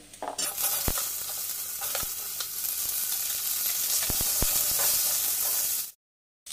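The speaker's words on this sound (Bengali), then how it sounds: "এবার ওই তেলের মধ্যে আমি আলুগুলো দিয়ে দিচ্ছি।" Potatoes sizzle loudly in hot oil in a kadai with fried garlic, a steady close frying hiss with light stirring scrapes, continuous for about six seconds before cutting off abruptly.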